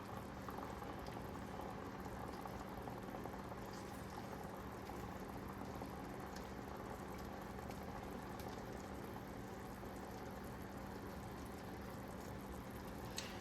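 Rice porridge with lime bubbling steadily in a pot on the stove after water is added, a continuous soft simmering hiss and gurgle with no talking.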